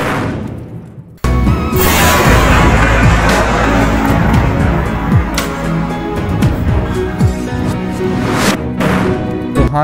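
Homemade firecracker bomb made from an empty plastic bottle going off outdoors: a sudden loud blast after a brief quiet moment, then a long, crackling burst of popping and bangs.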